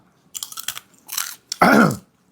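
Crispy fried sun-dried pork being chewed close to the mic, with loud crunchy bites in short bursts followed by one longer, heavier crunch.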